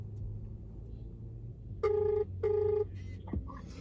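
A telephone ringback tone sounds after a call is dialed, two clear electronic ring bursts of about half a second each, separated by a short gap, over a low background hum.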